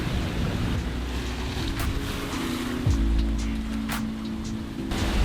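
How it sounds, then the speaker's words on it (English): A sailboat motor sailing with the jib out through following seas, its engine a steady low drone under continuous wash of water and wind, with a few brief splashy bursts. "So we're hand steering and motor sailing with the jib out."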